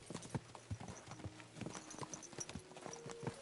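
Hooves of a horse in Kingdom Come Deliverance 2 clip-clop in a quick, steady rhythm at close range, with faint game sounds and no talk.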